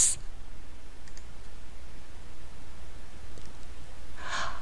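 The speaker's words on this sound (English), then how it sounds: "I click on the logarithm button" A computer mouse clicks faintly a couple of times while graphing a logarithmic function in an online math tool, with soft isolated clicks over steady background hiss and a brief brighter burst near the end.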